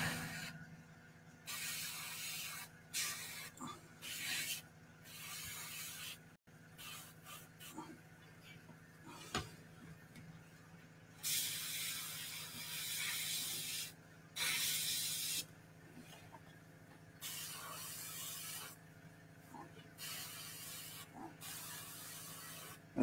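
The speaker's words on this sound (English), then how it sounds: "with an airbrush and a paintbrush because I use both, but I'm more comfortable with an airbrush" An airbrush sprays paint onto a Predator figure in short and longer bursts of close hiss, each separated by brief pauses, with a low steady hum underneath and no talking.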